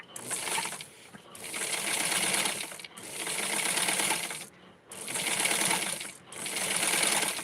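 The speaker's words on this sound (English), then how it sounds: "This one looks like it's really close up, so I'm going to sew it." A sewing machine stitches a double seam on a Blythe doll Halloween outfit, running in five close, even bursts of rapid mechanical clatter separated by brief pauses.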